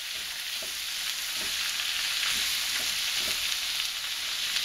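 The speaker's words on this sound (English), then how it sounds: "We want to stir fry this." Shredded cabbage and bacon are stir-fried in very hot oil over high heat, producing a loud, continuous sizzle with soft rhythmic scraping and stirring strokes repeating every second or so.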